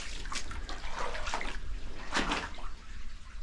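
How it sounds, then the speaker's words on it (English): Water splashes and trickles inside a gold mine tunnel, a steady, near wash with louder surging bursts, echoing slightly in the enclosed space. "I think I hear water."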